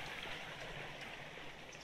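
Water flows steadily through an artificial stream at a zoo, a continuous broadband rush and gurgle that stays even and moderately close throughout, with no voices.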